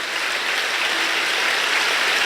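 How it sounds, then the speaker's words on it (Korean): A church congregation claps for guests, including Josh McDowell, in a thick, steady roar of applause that holds at an even level throughout, with no speech over it. "우리 박수를 한번 쳐드리겠습니다."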